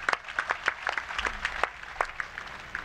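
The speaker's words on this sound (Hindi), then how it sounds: "एक बार इनके लिए जोरदार ताली हो जाए।" Scattered, uneven hand claps from an audience at an outdoor yoga initiation gathering in Tohana, Haryana, applauding children, with distinct individual claps popping out close by rather than a dense ovation.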